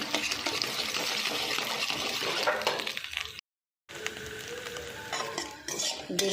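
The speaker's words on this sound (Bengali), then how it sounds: "তেলের উপরে 2টো ডিম দিয়ে ভেজে নিচ্ছি" Two salted eggs frying in hot oil in a wok while a utensil stirs and scrapes them into pieces, clinking metal over a steady sizzle, broken by a short silent gap midway.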